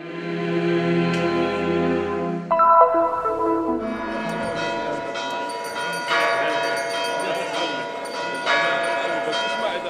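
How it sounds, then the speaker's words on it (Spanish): Church bells ring festively in Bethlehem, with a sustained, dense peal of overlapping tones that swells and carries on throughout, loud and continuous with no pause. "Las campanas suenan a fiesta."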